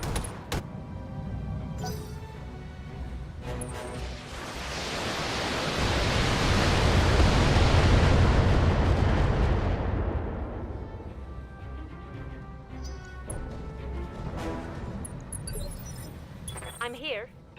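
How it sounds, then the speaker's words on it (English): A mech firing all its weapons at once in BattleTech, a broad roaring blast that swells over several seconds and slowly fades, with metallic clinks and a talking voice over the noise. "Firing all weapons."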